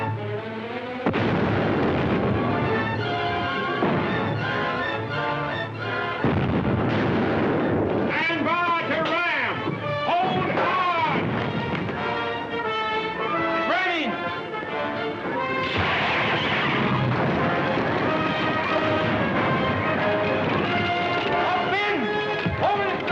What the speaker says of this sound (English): We'll give them a broadside.